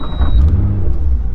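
A Nissan R35 GT-R tuned to 800 bhp starts up close by, settling into a loud, deep, steady engine rumble that carries on to the end.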